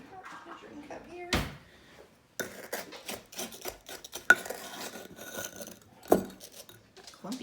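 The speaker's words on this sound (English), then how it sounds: "Grab my measuring cup here." Measuring cup handled while scooping a quarter cup of sugar for a salmon salad, giving a few sharp clinks and knocks of kitchenware between quieter rustling handling, close by, with occasional talk.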